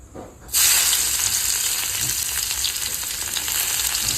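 Garlic paste hits hot oil in a pan and breaks into a loud, steady, close sizzle that carries on unbroken after a quiet start, with no talking.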